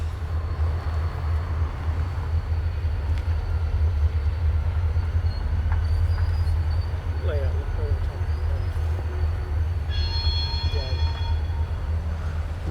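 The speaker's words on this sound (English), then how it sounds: "Looks like R.J. Corman decided to show up and pick up their train." An R.J. Corman train rumbles along on a wintry day at Pennsylvania's Horseshoe Curve, coming to pick up a grain train, with a low steady drone, occasional metallic squeals and a horn-like tone near the end.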